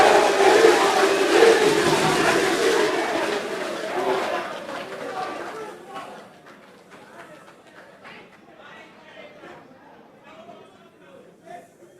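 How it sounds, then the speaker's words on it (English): Audience at an NSMQ secondary-school science quiz contest cheers loudly for several seconds, a dense roar of voices that fades into lighter scattered chatter. "So are we going to cheer like this after every question?"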